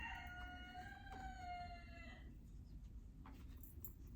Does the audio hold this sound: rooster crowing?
yes